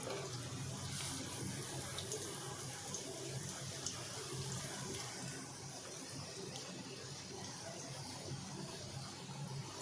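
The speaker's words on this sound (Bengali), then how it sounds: "তেলটা বেশ গরম হয়ে গেছে, আমি এক এক করে এর মধ্যে ভেজে নেব" Vegetable chops fry in hot oil in a pan, a steady, close bubbling sizzle that holds evenly throughout with no talking.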